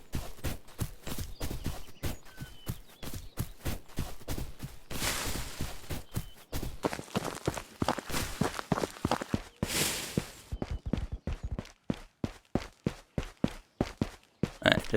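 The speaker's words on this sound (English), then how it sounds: "just confirming that that is the guard running the tunnel" Rapid footsteps of a guard running through a tunnel in the Ghosts of Tabor video game, a steady run of sharp, close thuds that pause briefly, then resume as quicker, more spaced steps, with faint hissing noise in between.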